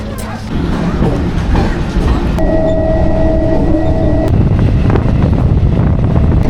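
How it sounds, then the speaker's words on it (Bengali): A local train pulls in at a station near Howrah, a loud steady rumble with a sustained tonal squeal or horn-like whine in the middle, wind buffeting the microphone throughout. "চলে এলো আমাদের লোকাল ট্রেন।"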